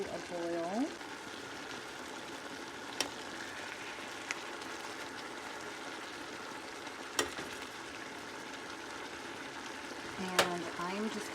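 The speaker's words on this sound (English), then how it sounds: "So we've got this on a high heat, and just bringing it to a boil." Chicken broth with onion and garlic coming to a boil on high heat, giving a steady bubbling sizzle with a few faint clinks, close and fairly quiet.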